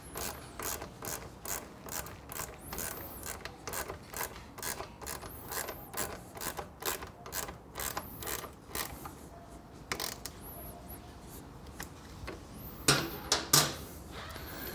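A ratchet clicks in quick bursts while an exhaust bolt is tightened on a Triumph Bonneville T100/T120 during a Predator Pro shorty exhaust install, with rapid bursts separated by brief pauses, fairly faint and close.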